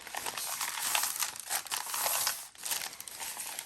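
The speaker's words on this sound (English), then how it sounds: "my decision is to bind it, which means that I'm going to fold my papers" Sheets of paper for a junk journal are folded and creased by hand, soft crinkling and rustling bursts at close range, fairly quiet, with no talk.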